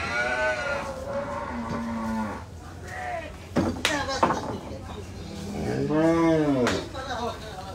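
Bulls, including red and pied ones, at the Gabtoli cattle market low repeatedly with long, deep moos, one after another amid market crowd noise and people talking.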